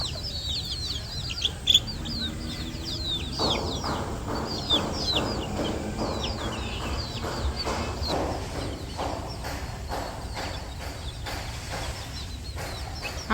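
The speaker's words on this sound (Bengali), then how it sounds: "ওই পাশে তো মুরগিরে খাওয়াই রাইখা আসলাম" Chickens cluck and squawk repeatedly in an outdoor yard on a breezy afternoon, a steady busy chatter of several birds at moderate distance with occasional sharper calls.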